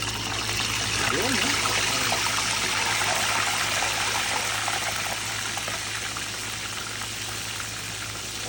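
Tilapia fries in hot oil with a loud, dense, continuous sizzle, while a voice speaks briefly over it.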